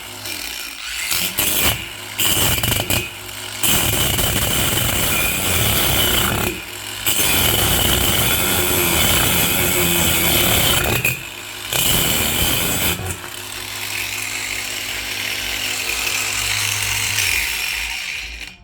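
An angle grinder grinds into an unclamped piece of wood in a loud, harsh whine that runs in long bursts with several short pauses between passes, then a steadier lighter grinding near the end; no talking.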